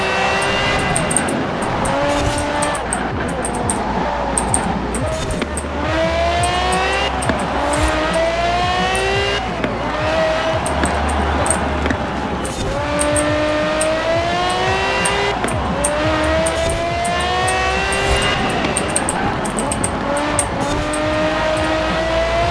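An unmodified Ferrari F50 races in Forza Horizon 4, its engine climbing and dropping through repeated gear shifts, revving hard and continuously with tyre squeal mixed in, loud and close throughout.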